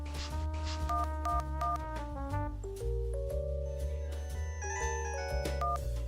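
A cartoon telephone rings out in a loud, bright electronic melody of stepped synth tones and beeps, close and continuous, with no talk.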